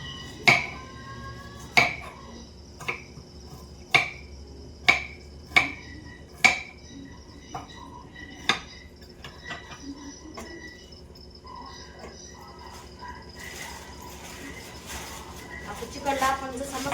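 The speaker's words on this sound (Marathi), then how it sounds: "अद्रक घेते चिरून मी." A knife chopping ginger on a board at home while preparing chicken biryani: a series of sharp, close taps spaced about a second apart that slow and then stop, followed by quieter kitchen rustling.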